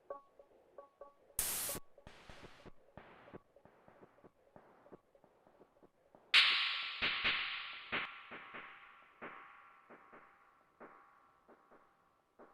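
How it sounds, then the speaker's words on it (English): Sampled sounds run through an OTO Machines BIM from an Elektron Digitakt, carrying a tape-like wow and flutter with slight pitch wobble in the tails; quiet, sparse hits and clicks, then a brighter swelling burst that decays in pulses. "you kind of hear the tape almost quality of some of the wow and flutter"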